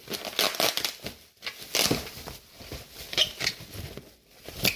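Snack packaging torn open up close, a continuous run of loud crinkling and rustling plastic with irregular crackly bursts throughout.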